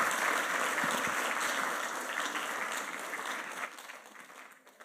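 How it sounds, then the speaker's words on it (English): Audience applause for a speaker at an academic symposium, a steady wash of clapping that gradually tapers off. "But let's give her another round of applause."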